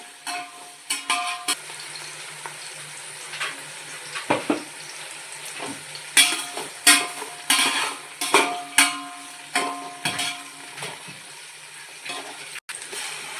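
Onions frying in a pan with salt for prawn biryani: steady sizzling with intermittent scraping and stirring clatters of a spoon against the pan, fairly close, no talking.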